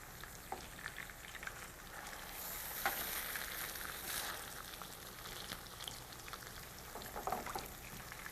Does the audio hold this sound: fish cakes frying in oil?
yes